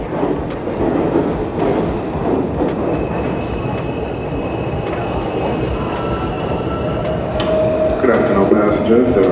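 A New York subway J train runs at Delancey–Essex station with a loud, steady rumble and faint high wheel squeals, followed late by a tonal hum as it slows. A voice speaks faintly underneath.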